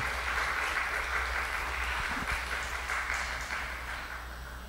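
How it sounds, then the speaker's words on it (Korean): A church congregation claps in encouragement during a Wednesday Bible study service, a steady, moderately distant wash of applause that holds for several seconds and then gently tapers. "박수로 삼은 격려함 합시다."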